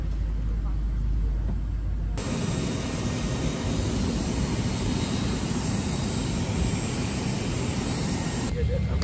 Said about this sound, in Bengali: বাংলাদেশের সবচেয়ে বড় প্লেন বোয়িং 777-300